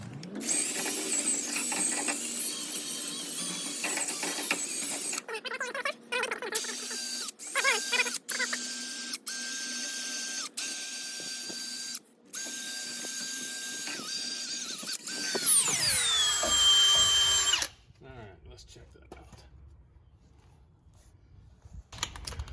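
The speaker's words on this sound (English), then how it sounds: "I'm gonna get a little wire brush and see if I can get that off there real quick" Wire brush scrubbing rust off boat trailer brakes, a loud dense scratchy rasp in continuous strokes with brief pauses, close up, ending in a rising whine as the work stops, with no talk.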